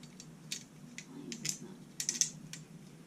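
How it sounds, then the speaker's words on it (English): Small metal clicks and ratcheting taps from bolts being fastened through a cut metal arm onto a metal base frame, a quiet, irregular series of short clicks at close range over a low steady hum. "bolt that on."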